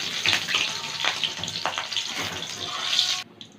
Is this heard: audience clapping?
no